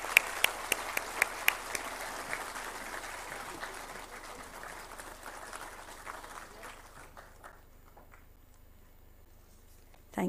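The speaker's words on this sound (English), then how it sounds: "Can we have a round of applause" Applause from an audience at a World Telecom Day ceremony, with a few sharp, close claps standing out early, then thinning and fading to quiet near the end.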